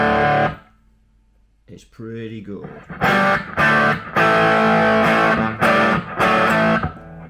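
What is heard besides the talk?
distorted guitar through restored WEM Dominator Mk3 valve amp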